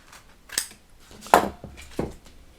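Bat-Mat carpet cut off by hand with a blade or scissors, giving a few sharp, close snips and scrapes separated by short pauses in a quiet room.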